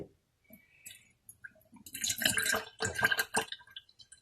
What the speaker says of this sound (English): You keep pouring until it covers the garment